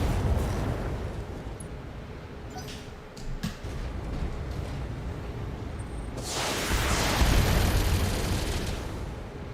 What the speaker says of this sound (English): Firing at enemies.